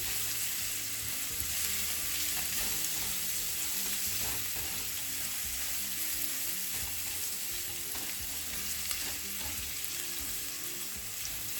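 Garlic frying with onion in a pan, giving a steady, close sizzle that runs unbroken with faint clinks of stirring and no voices.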